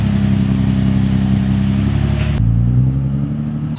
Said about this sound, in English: out testing the car right now